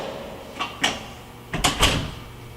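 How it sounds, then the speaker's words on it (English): A door in a building by a fire stairwell is pushed shut, giving a couple of soft knocks followed by a firmer double thud as it latches, close by in a quiet space. "I'm going to close this door now"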